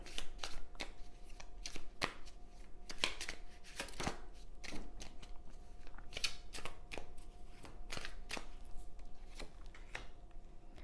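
Oracle cards being shuffled by hand in a quiet room, in a steady run of crisp riffling snaps and soft paper flutters that repeat every second or so. The sound is close and fairly soft, with no talking.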